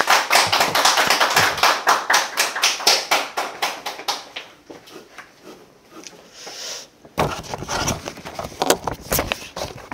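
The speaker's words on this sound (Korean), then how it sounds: "우리 큰 박수로 맞아주시죠." A church congregation claps loudly for a guest pastor at a Sunday service, quick close hand claps dense at first, thinning and fading mid-way, then a second burst of scattered claps.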